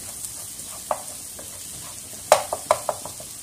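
Onion fries in a pan with a low, soft sizzle, then a few sharp clinks and scrapes of stirring near the end, with no voices.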